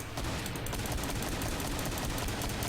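Assault rifle fire in the Project Brutality game, a dense, continuous rattle of rapid shots running loud and close for the whole stretch with no talking.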